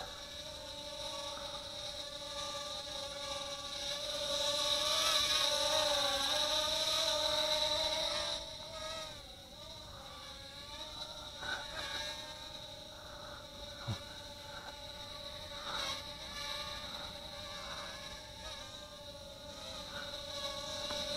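A JJRC JJ800 quadcopter drone flies with a steady, high-pitched whine of small spinning propellers that rises in the first half, then settles and wavers as the throttle shifts.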